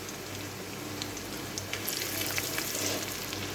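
Turmeric goes into hot oil with fried chillies, a constant close sizzle and crackle with a few sharper pops rising toward the end, no voices over it.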